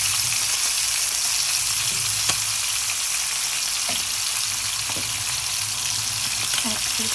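Small puti fish sizzle steadily in hot oil with a little water added to the spices, a dense continuous crackle with occasional sharper pops, close and fairly loud throughout.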